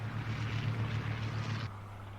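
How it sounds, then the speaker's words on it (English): Airplane engine from an episode of the series Torchwood, a steady low propeller drone that holds for under two seconds and then drops to a quieter, thinner hum. "Planes."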